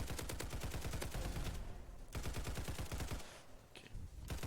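Rapid bursts of gunfire from the Roblox shooter game Hypershot crackle in dense, fast volleys, pausing briefly before resuming.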